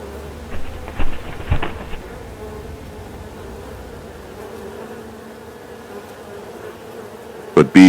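Bees buzzing in a forest: a steady, droning hum runs throughout, with louder close passes near the start and a sharp surge right at the end.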